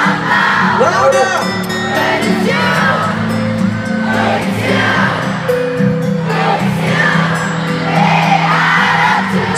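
Crowd at a concert in Jakarta, screaming and cheering steadily throughout while many voices sing along loudly and close by.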